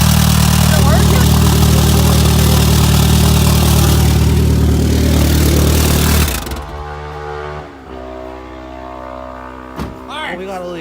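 Small engine running loud and steady through a homemade exhaust built from Mountain Dew cans and duct tape, then cutting out abruptly partway through, leaving quieter rumbling and handling noises.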